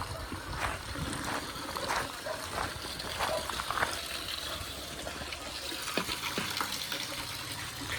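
Water is sprayed over an elephant to cool it down, giving a continuous splashing, hissing spray with intermittent gushes, while people talk over it nearby.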